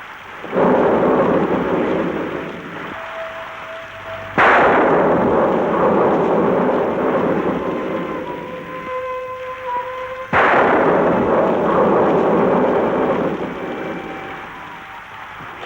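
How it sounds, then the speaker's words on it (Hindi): Heavy thunder cracks and rolls, three big booming claps each fading into long rumbles, loud and near, with no talking. "जब भी ये बिजली चमकती है और बादल गरजने लगते हैं"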